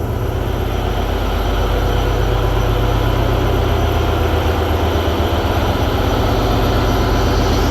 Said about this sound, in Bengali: এখন লঞ্চেরটা শুনুন কেমন লাগে আমার কাছে তো বেশ ভালোই লাগে লঞ্চের ইঞ্জিন সাউন্ড